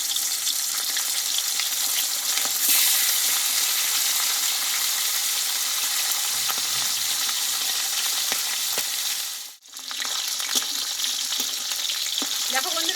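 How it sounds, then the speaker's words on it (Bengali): Pieces of fish fry in hot oil in a pan with a steady, dense sizzle and crackle, close up, broken by one brief hush partway through and occasional light clinks, with no talking. "বাকি মাছগুলো ভেজে নেবো আমি"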